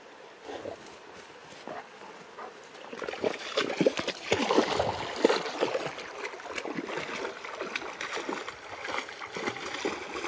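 A dog splashes into water and paddles in a lake or river. Faint trickling at first gives way to louder, irregular splashing and sloshing near the middle, followed by continued water movement.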